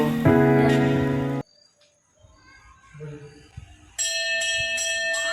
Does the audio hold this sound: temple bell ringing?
yes